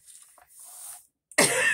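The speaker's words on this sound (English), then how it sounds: "I just have this little irritating cough" After a few soft breathy throat sounds, a single sharp, close, irritated allergy cough bursts out at the end.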